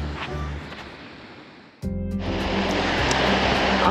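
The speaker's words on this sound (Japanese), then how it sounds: "アタシカの海岸です。" Surf breaking steadily on the Atashika coast along the Kumano sea shore, a continuous broadband wash that dips briefly, then swells louder as a fresh wave crashes in close by, with no voices.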